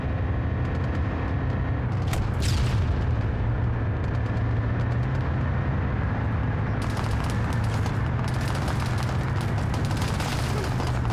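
Airstrike explosions in a military video game set during a police crackdown operation, heavy booming blasts with rumbling debris over continuous dense battle noise, bursts clustering near the start and again later, loud throughout.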